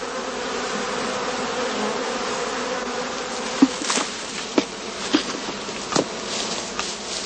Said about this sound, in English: The bees now set about enlarging the entrance of their skep by gnawing it and smoothing it all